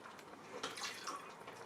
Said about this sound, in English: But pour some apple juice in there.